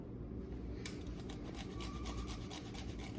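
Food is rasped against a coarse kitchen grater while making meatballs, giving quick repeated scraping strokes after a brief pause. The grating is close and fairly quiet, and nobody speaks.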